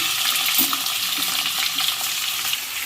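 Chicken pieces for a chicken fry being dropped into well-heated oil, setting off a loud, close, broadband hiss and crackle that holds steady for a few seconds, with no talk.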